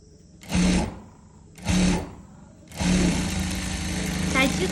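Sewing machine stitching a saree blouse in a straight half-inch seam: three close bursts of rapid mechanical whirring, the last one sustained, over a steady background hum.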